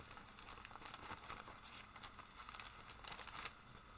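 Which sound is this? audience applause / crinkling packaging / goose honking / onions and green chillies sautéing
crinkling packaging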